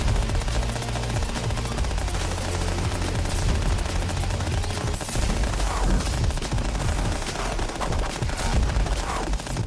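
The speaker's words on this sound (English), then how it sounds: "I'm using a lot of missiles here" Missiles and weapons fire continuously in the Starward Rogue video game, a dense, loud barrage of rapid launches and bursts layered over a low rumble with no pauses.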